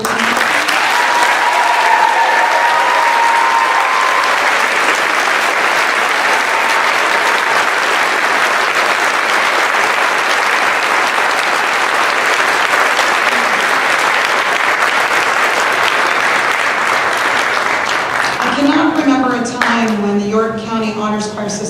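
An audience at a high school spring choral concert gives sustained, full-bodied applause for graduating choir seniors, a long, steady roar of clapping that holds for about twenty seconds before a voice begins speaking over its tail.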